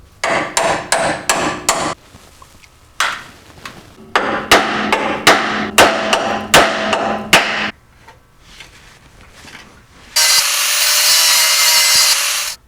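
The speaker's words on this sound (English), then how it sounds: "We're going to start by hammering our originals back into shape the best we can." A hammer pounding bent original Toyota 4Runner metal parts back into shape, delivering loud close bursts of rapid ringing strikes separated by short pauses, followed by a steady, sustained high-pitched whir at the end.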